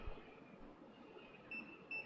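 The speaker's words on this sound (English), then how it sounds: "Beep, beep, twice." Over a quiet background hum, a Steelmate baby seat alarm gives two short, high beeps spaced a moment apart.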